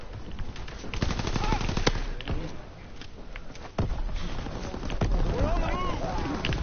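Bursts of machine gun fire in a tank battle video game, sharp repeated cracks over rumbling noise, with people talking throughout.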